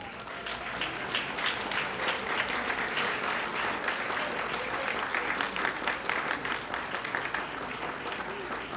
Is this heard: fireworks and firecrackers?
no